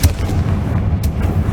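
Confringo fire spell blast in Hogwarts Legacy, a heavy booming burst with a sharp crack at the start, followed by rumbling low-end impacts.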